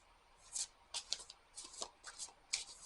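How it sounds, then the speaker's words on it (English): A deck of cards is shuffled during a tarot card reading, heard as several quick, soft riffling bursts in a quiet room. "This one's a little harder to shuffle."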